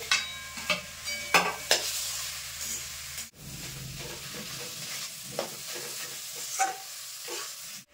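Grated coconut and grated palm jaggery cook in a wok: sharp spatula knocks and scrapes land at irregular intervals over a soft continuous sizzle, with a brief pause midway.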